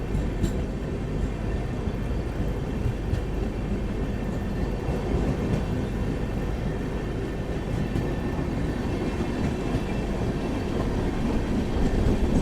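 The Kriya Yoga Express from Howrah to Ranchi pulls out of Chakulia station, a steady, loud rumble of wheels and coaches heard from on board with faint rhythmic clatter throughout.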